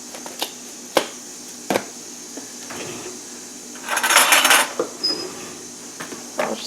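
Quinoa salad with dressing stirred in a bowl, giving sparse clinks and scrapes of a utensil against the dish with a brief busier burst of mixing in the middle, close and fairly quiet.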